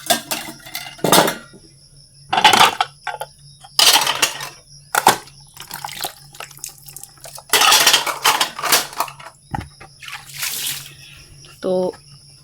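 Plates being handled and stacked, giving bursts of sharp clattering and clinking at close range, separated by quieter pauses, with a person speaking between the bursts.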